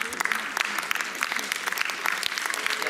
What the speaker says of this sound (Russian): Аплодируйте, конечно.